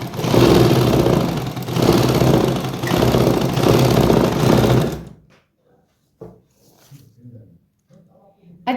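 A sewing machine stitches a double seam on plazo pants with a loud, steady motorized whir for about five seconds, then stops, leaving near-quiet with a few faint, scattered sounds.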